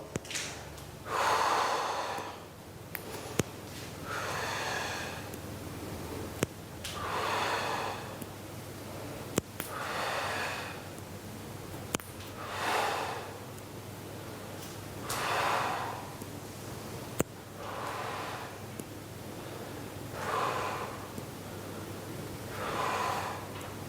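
Rhythmic breathing during a bodyweight lateral raise exercise, each slow exhale followed by an inhale, repeating about every two and a half seconds, close and clear over a steady low hum, with no talking.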